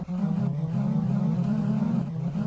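Synth notes triggered through Ableton's Bouncy Notes MIDI effect, a steady run of pitched tones stepping up and down in quick succession, loud and continuous with no voices.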